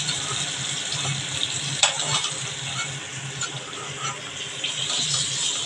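Pointed gourd slices frying in hot oil, a dense continuous sizzle close up with a few small clinks of a utensil against the pan, no voices.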